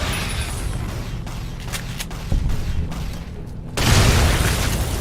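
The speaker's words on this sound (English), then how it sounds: "Love that explosion. It's like blue and green and big." Explosion in Fallout: New Vegas gameplay, a sudden loud burst near the end after a quieter stretch of clicks and game mechanisms, with a thud partway through.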